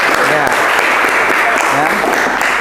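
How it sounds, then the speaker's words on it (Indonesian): A classroom of students applauding during a lesson, loud dense clapping sustained for a few seconds with faint voices mixed in. "Tepuk tangan untuk kalian."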